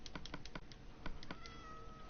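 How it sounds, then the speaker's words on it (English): An ocelot meows in the Minecraft video game on PS4: a short, soft, high cat meow that rises clearly after a run of quick clicky taps, in a quiet scene with no talking. "It's one of the ocelots that just meowed and it was adorable sounding."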